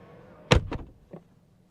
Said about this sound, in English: Here's a couple more looks at the self-opening and self-closing doors.